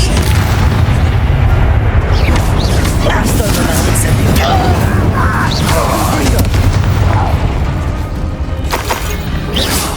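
Fire and blasting spells from the Hogwarts Legacy video game go off in heavy repeated booms and crashing explosions, loud and close, with voices shouting over the rapid bursts of combat.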